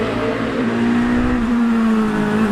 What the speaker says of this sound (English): You can hear the engines already misfiring.